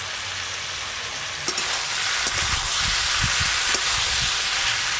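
Ground spices sizzling and frying in a hot pan of bottle gourd curry with fish head, a loud steady crackling hiss with a few stirring clinks, no voices.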